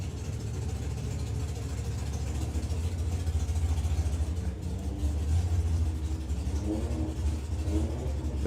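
A Copo drag racing car and a small four-cylinder rival rev loudly at the line during an FIA Main Event race. A continuous engine roar holds and swells near the end, heard up close and alone.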